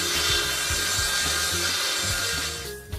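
A parquet board plank, tongue side, being sawn to size by hand, giving steady rhythmic rasping strokes up close that fade near the end.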